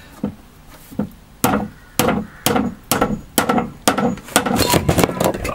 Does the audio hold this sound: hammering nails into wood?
yes